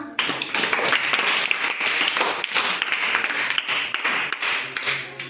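Schoolchildren in a classroom clap for a classmate, a brisk, slightly uneven burst of many small hands running for several seconds, fairly close and loud, then trailing off.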